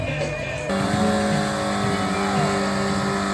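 A monster truck at a show in Weil am Rhein roars loud and close as it speeds toward the ramp, its engine note holding steady with higher tonal whine layered over the rumble.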